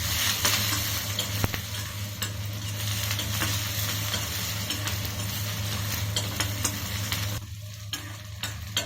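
Spices tempering in hot coconut oil for a Kerala dal curry, a steady close sizzle and crackle with occasional stirring clinks, running continuously before easing briefly near the end.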